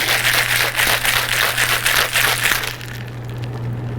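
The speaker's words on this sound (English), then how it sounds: "We'll shake that up." Ice rattles hard inside a cocktail shaker in rhythmic, rapid bursts for almost three seconds, loud and close, then cuts off into a quieter room with a low steady hum.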